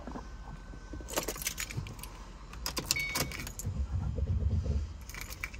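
Keys jangle close by inside a Ford Mustang, then the engine turns over and catches, settling into a low idle rumble near the end.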